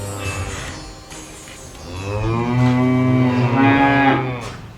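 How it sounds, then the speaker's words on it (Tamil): Cattle mooing in a cowshed: several long, drawn-out lowing calls, close and loud, overlapping one after another with no talk. "இதுவரை அப்படி அவரை காணிடாத மாடுகள் அவரை கூச்சலிட்டு கூப்பிட்டது"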